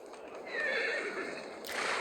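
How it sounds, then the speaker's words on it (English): Dozens of horses in a video game neigh at once, far off and echoing. Their whinnies merge into a faint, continuous chorus that swells toward the end. "Sound of dozens of horses neighing at once echoes from somewhere far away."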